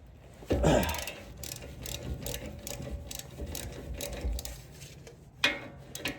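Ratchet wrench clicks rapidly while breaking loose the front brake caliper bolts on an Audi RS5 (B9.5), with a steady run of ratcheting pawl ticks, a louder burst at the start, and a sharp clank near the end.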